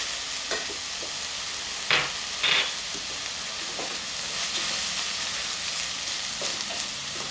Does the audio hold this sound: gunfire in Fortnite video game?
no